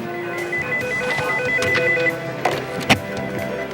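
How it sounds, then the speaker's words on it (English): A telephone rings in a 2002 TV newsroom at WPTV Newschannel 5, a repeating electronic warble in short trilling bursts, followed by a few clunky handling knocks near the end. "Here come the phone calls."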